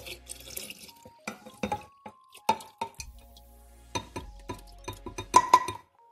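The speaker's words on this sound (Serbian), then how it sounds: "Sada na ovu količinu drena, vode i kvasca koje smo već sipali u staklenu teglu, sipamo rastvoreni šećer" Dissolved sugar syrup is poured into a glass jar of cornelian cherries, water and yeast for homemade wine, producing faint trickling and dripping with scattered light clinks of glass over several seconds, without talking.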